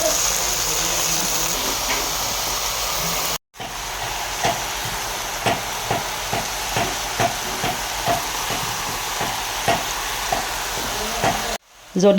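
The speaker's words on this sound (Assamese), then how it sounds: "এতিয়া ভাজি পেলাই বনাম মানে চবজি বনাম" Continuous sizzling of food frying in a pan, with regular scraping stirs and clinks at a steady rhythm, no talking.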